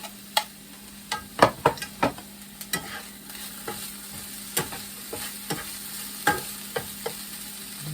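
Green onion tops and cabbage stirred in a frying pan, a soft steady sizzle broken by a string of sharp utensil taps and scrapes against the pan, near and fairly quiet.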